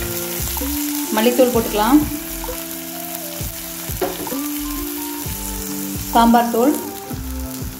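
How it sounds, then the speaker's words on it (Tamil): Masala spices frying in a pan for mushroom gravy give a steady sizzle and crackle, with occasional stirring scrapes, beneath spoken instructions and a tonal background. "மசாலா பச்சை வாசனை போக வரைக்கும் வறுத்துக்கலாம்."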